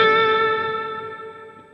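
A single electric guitar lick rings out with distortion and reverb-soaked effects, a sustained bright note cluster that decays smoothly over under two seconds, heard alone without talk.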